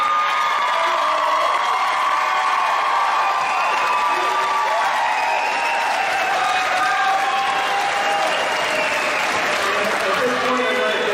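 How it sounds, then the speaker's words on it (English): A crowd at a high school graduation claps steadily for about eleven seconds, loud and continuous, with some scattered cheers and shouts mixed in. "Big round of applause for our last row there."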